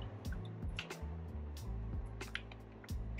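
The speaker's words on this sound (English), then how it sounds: "dip our roller in water." A printing ink roller for mokulito is dipped in water, giving quiet, close little squishes and drips over a low background hum, with no talk.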